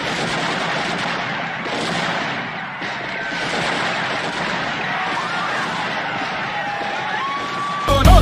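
A gunfire sound effect plays during a Jallianwala Bagh massacre reenactment at an Independence Day celebration in a Noida residential society, a dense, continuous roar of rapid crackling shots lasting throughout, loud and unbroken, ending in a brief louder burst.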